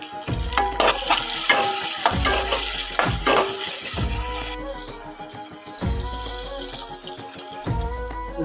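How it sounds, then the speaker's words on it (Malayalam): Mustard seeds and curry leaves fry in hot oil for chakkakuru theeyal, a jackfruit seed curry, with a close, crackling sizzle broken by repeated metallic clanks of stirring in a rhythmic pattern. "ഇനി നമ്മൾ കടുക് വറുക്കുവാണ്"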